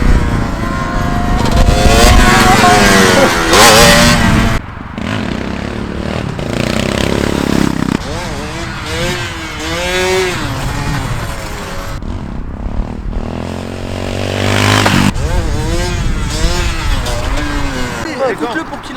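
A motorcycle engine revving hard during wheelies, rising and falling in repeated surges with mechanical clatter, loud and close, and people speaking French over and between the revs.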